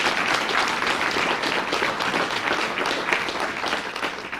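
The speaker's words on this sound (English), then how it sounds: "Let's give the board a round of applause." An audience at a Louisiana community and technical college system event with the governor applauds a board. Sustained, dense clapping from many hands fills the room at a steady level, with no speech over it.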